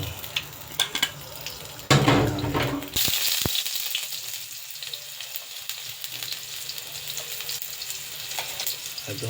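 Cooking oil sizzles and fries beef tapa in a pan, a steady close crackle that jumps louder partway through as the meat goes in, with occasional stirring and utensil clicks.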